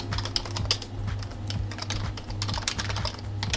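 Computer keyboard typing, a dense, rapid patter of clacking keys with no speech over it, from a keyboard that is failing while GTA: San Andreas plays in multiplayer.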